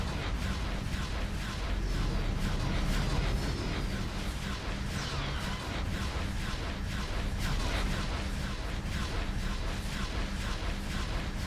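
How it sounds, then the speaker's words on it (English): Light ion cannons fire repeatedly from a starship in X4: Star Wars Interworlds, a rapid stream of rhythmic pulsing shots over a low engine rumble. "These are light ion cannons."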